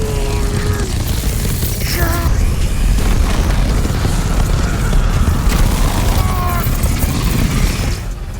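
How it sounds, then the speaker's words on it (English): Yusuke fires an all-out spirit gun blast at Younger Toguro in the Yu Yu Hakusho anime, a loud, sustained roaring boom that rumbles without letup, with brief whooshing and ringing tones layered over it before it eases off at the end. "the spirit gun, filled with all his hope and beliefs, was fiercely launched"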